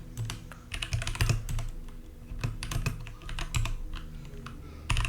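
Computer keyboard keys clack in irregular bursts and pauses as code is typed, close up and fairly crisp, with no talking.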